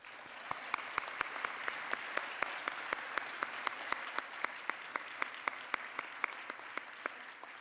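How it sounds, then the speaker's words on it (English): A conference audience at an opening plenary claps steadily, with sharp individual claps standing out over a dense, even wash of applause that runs the full length at moderate distance. "let's give all of them a big applaud."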